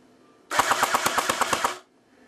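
A T3 .30 cal airsoft gun fires BBs on full auto. About a dozen evenly spaced, sharp mechanical cracks come close and loud in a single short burst between quiet moments, at a fairly slow rate of fire.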